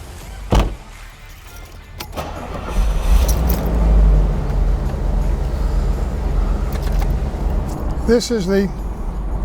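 A 1987 Bentley Continental Drophead's engine runs with a steady low rumble beneath a man's speech, with a sharp thump near the start and a brief rise in engine noise midway.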